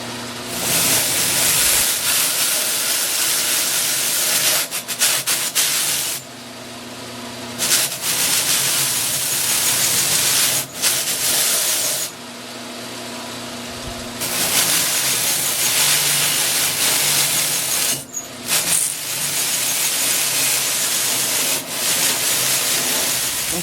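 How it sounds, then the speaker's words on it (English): Mop sander whirring as scroll-sawn wood is pressed against it to strip fuzz, a loud continuous rushing hiss that swells and dips as the piece is moved, with short breaks. "over here at the mop sander, you can do this by hand, with regular sandpaper too"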